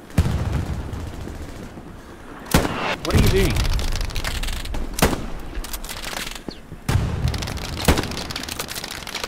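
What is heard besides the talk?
gunfire and explosions in the video game Hell Let Loose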